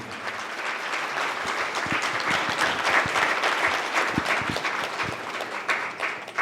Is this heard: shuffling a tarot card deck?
no